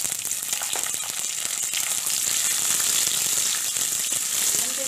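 Tomato and onion frying together in a pan for a crab coconut masala, a steady close sizzle with faint scraping, continuous and even throughout with no talking.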